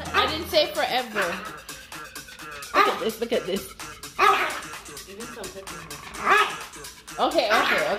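A dog barks and yips in short bursts while a child approaches it indoors, the barks loud and close, mixed with several people talking and a voice throughout.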